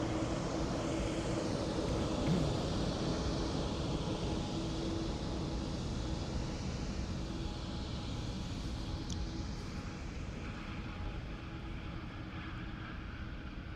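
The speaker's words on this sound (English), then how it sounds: "Next Ryanair in from Pisa." A Ryanair airliner arriving from Pisa at Dublin Airport, heard as a steady broadband jet roar that slowly fades over the span, with no voices.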